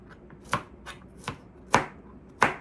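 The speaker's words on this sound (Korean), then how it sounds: "고추는 2개 좀 얇게 썰어줍니다" A knife chops through garlic and chili peppers on a board, five separate cutting strikes landing at an uneven pace, close by and crisp, with no voices.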